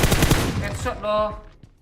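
Rapid gunfire from the PUBG Mobile video game: a dense burst of automatic shots in the first second, followed by a brief tonal game sound as a voice speaks over it.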